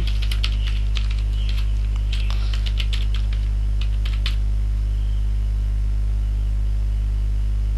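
An email address is typed on a computer keyboard: quick irregular key clicks for about four seconds over a loud steady low hum, then only the hum remains.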